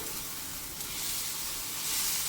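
Garam masala, chilli, cumin and pepper powders fry on low heat in a pan for mushroom gravy, giving a steady close hiss and sizzle throughout.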